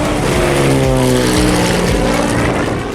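A 310 horsepower V-tail Beechcraft Bonanza, a light all-metal propeller airplane, gives a loud, steady engine and propeller drone with strong harmonic tones. The sound holds constant throughout and stays close, with no talk over it.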